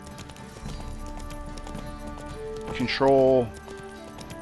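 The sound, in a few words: horse Roach's hooves and neigh in video game The Witcher 3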